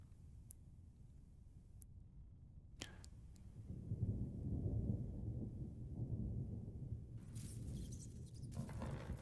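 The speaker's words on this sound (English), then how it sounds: "I'm hearing thunder in the game." Low distant rumbling of game thunder rolls in and swells, a steady deep roar with faint crackles, heard alone in a goblin-themed fantasy game.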